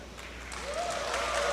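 A pool match crowd at the Philippines Open 2025 breaks into applause, a broad wash of clapping that swells louder over a second and a half, with a faint voice rising underneath.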